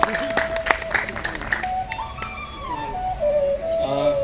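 Audience applause breaks out at a Janmashtami celebration, a short burst of clapping at the start that quickly fades while a host speaks over a microphone and music plays.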